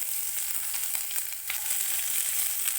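Onions and bay leaf hit hot oil and fry with a steady, bright sizzle that holds evenly for the few seconds, close and alone with no talk.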